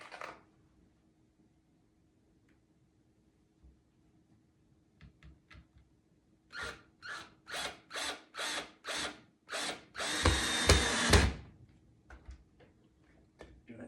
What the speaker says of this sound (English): I'm just going to hold down and screw that in.